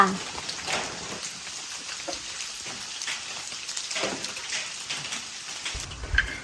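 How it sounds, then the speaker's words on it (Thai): Heavy rain falls in a hill-country setting, a steady dense patter on surfaces that stays moderately loud throughout, with a faint low thump near the end. "มาตอนนี้ก็คือ ฝนหนักเลยค่ะ"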